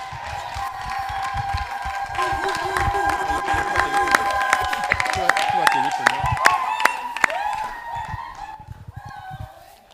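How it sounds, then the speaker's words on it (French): A church congregation at the Tabernacle de la Liberté in Yaoundé cheers and applauds during a New Year wishes ceremony, with dense clapping, high shouts and whistles swelling and then easing off. "Sous vos acclamations, s'il vous plaît."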